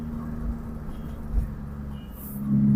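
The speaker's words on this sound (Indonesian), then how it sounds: "truk kita lewati saja dulu" Steady road rumble from inside a vehicle passing a truck on a highway near Toboli, Central Sulawesi, with a low engine drone that swells toward the end.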